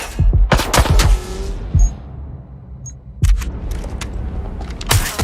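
Gunfire in the video game Watch Dogs Legion: several loud, sharp shots in quick bursts near the start, then a further volley after a quieter stretch, with lighter clicks and rumble in between.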